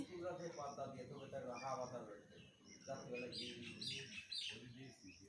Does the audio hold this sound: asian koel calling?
yes